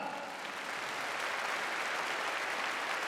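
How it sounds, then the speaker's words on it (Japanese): Crowd applause for a New Japan Pro-Wrestling wrestler backstage: a steady wash of clapping, fairly distant and soft, continuous throughout. "も盛大な拍手をどうも。"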